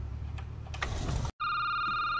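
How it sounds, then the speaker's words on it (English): Telephone ringing in a security booth video game, a sudden clear electronic ring tone that cuts in after a brief silence, loud and steady, following a stretch of noisy room ambience. "Oh, the phone's ringing."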